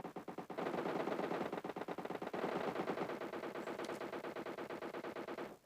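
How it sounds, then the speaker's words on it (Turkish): Rapid, continuous automatic gunfire in PUBG Mobile rattles steadily for several seconds, dense bursts with occasional sharper shots, moderately loud with no talking. "önümdeki yerdeler silah seslerini duydum"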